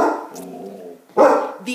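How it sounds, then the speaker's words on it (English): Dogs barking indoors at home, with a loud bark burst partway through and a shorter one at the end, following a person talking. "my dogs are barking."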